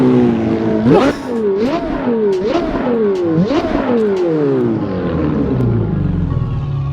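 Ferrari F430 in the Assetto Corsa racing game, its engine climbing hard through several quick upshifts with sharp pitch drops between gears, then settling into a steady high-speed drone; no talking.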